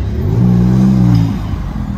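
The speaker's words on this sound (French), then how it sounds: "Le V6 c'est pas super sonore quand même." A V6 supercar engine revving in the streets during the Monaco Grand Prix, a brief nearby low droning rev that rises, holds and drops back within two seconds.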